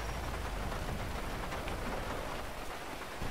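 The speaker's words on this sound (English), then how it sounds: "It's raining, obviously." Steady rain falling on surfaces in the video game GTA 5, a dense, even hiss of drops with a faint low rumble, heard alone at a soft level without talk.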